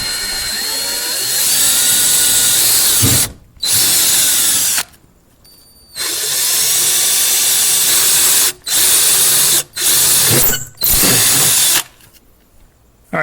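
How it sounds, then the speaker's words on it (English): A power drill whines in several loud bursts, each run broken by short pauses, the high grinding of the bit biting through metal up close, drilling holes in a Jeep Wrangler for a Hi-Lift jack mount. "So now all we're going to do is drill them out."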